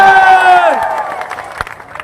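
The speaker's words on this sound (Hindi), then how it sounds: "ताली अगली लाइन पे बजानी थी" A crowd at a political rally in Mewat, Haryana cheers and claps in a loud burst that merges with a sustained voice at the start, then settles into scattered claps and noise.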